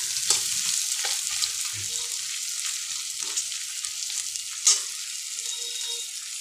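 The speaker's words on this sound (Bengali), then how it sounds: "কুমড়োটাকে ভালো করে ভেজে নেব।" Pumpkin pieces fry in a pan, a steady bright sizzle broken by occasional soft stirring knocks and scrapes, heard close with no talking.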